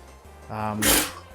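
A single short sneeze bursts out near the end of a brief moment, coming after a little talk during a Mario Kart DS game.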